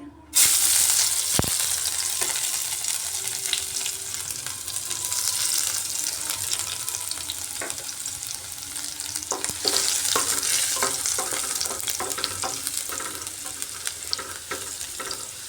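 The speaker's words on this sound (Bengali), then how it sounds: "রসুনটাকে একটু হালকাভাবে ভেজে নিলাম" Plenty of finely chopped garlic fries in oil, a loud, close, continuous sizzle with occasional spoon scrapes and clicks, no voices.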